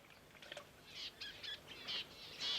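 Small budgerigars chirp in the Australian outback bush, giving faint, scattered bursts of high, twittering calls against a quiet background.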